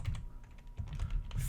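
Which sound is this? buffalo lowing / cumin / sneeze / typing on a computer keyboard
typing on a computer keyboard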